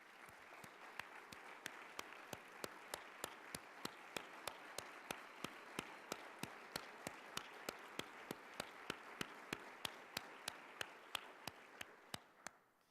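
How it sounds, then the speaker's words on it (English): Faint audience applause at an orchestra management conference awards breakfast, honouring fellowship alumni: a long, even run of clapping with sharp, regularly spaced claps standing out over a soft wash of hands. "Let's take a moment to offer a round of applause for all of the OMFP alumni who are with us this morning."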